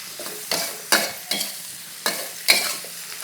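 A spatula scrapes and clatters in a wok while twice-cooked pork is stir-fried with sugar. The strokes come in six sharp, rhythmic bursts over a soft sizzle, close up and alone.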